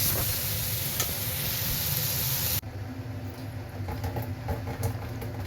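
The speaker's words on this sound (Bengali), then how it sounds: "এখানে করছি একটা মিক্স সবজি করছি" Mixed vegetables sizzle loudly in a pan with a constant hiss; partway through the sizzle drops sharply and turns quieter, with intermittent scraping and stirring clatter, and no voices.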